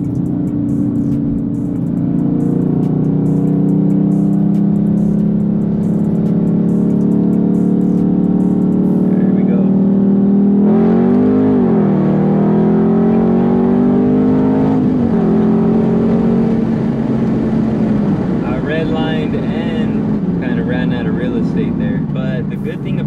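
A Dodge Charger 392 Scat Pack Widebody accelerates hard in manual mode, its V8 engine note climbing steadily through each gear, with audible dips at the shifts, loud and close from inside the cabin, with a voice talking at points.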